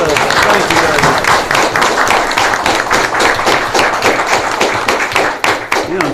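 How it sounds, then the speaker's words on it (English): A studio audience at a TV quiz show bursts into loud, dense applause, continuous clapping sustained throughout, close and full. "Wild applause. Come on, let's hear it from them."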